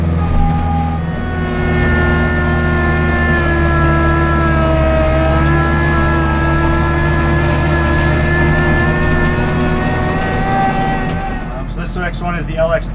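A Kubota compact tractor with a hydrostatic transmission runs at full throttle in high range, giving a loud, steady engine drone with a sustained transmission whine that holds for most of the clip before changing near the end.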